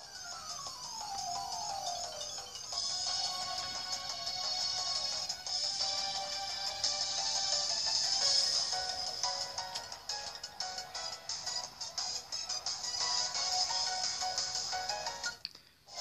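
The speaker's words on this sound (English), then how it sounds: "I'll give you a little bit of a taste of what the music sounds like." Chiptune-style music from the Pokemon Let's Go video game, bright tonal melodies and a descending sweep at the start, playing steadily for about sixteen seconds without talk.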